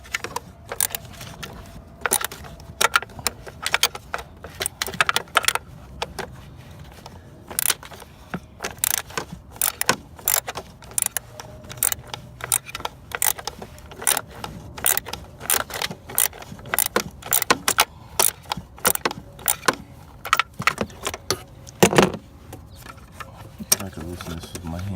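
A 14mm socket wrench works loose the PCV valve cap on a BMW 335i engine, giving sharp, irregular ratcheting clicks and metallic taps close by, with some quiet talk underneath.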